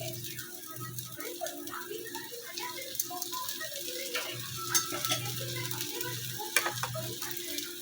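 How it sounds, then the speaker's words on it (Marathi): Green moong dosa frying with a little oil in a pan, giving a steady close sizzle with light scraping and stirring clicks throughout. "आता कढईने आपण तेल टाकू थोडं."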